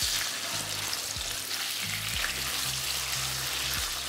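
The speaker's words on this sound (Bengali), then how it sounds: "প্রথমে আমি আলুগুলোকে ভালো করে ভেজে নিচ্ছি" Potatoes fry in oil in a pan on medium-low heat, a steady, fairly quiet sizzle with soft stirring, and nothing else over it.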